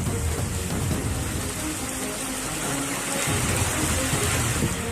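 Heavy monsoon downpour during flooding in Gujarat, a steady dense hiss of rain pouring onto surfaces, loud and unbroken throughout with no voices.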